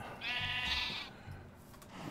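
Sheep in the TerraFirmaCraft video game bleat twice, a long wavering call followed by a shorter one, fairly close and clear with no talking.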